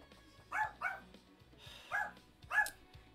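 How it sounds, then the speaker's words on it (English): Dogs bark indoors in four loud, separate bursts, two close together, then a pause and two more. Faint background noise sits underneath, with no talk over the barks. "if the dogs stop barking"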